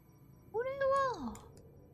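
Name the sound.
orange tabby cat meowing in video game Doors: Paradox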